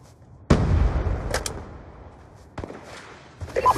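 Sharp, loud DSR sniper rifle shot in a first-person shooter game, a single booming crack followed by a decaying tail, with quieter game clatter and a second softer impact later.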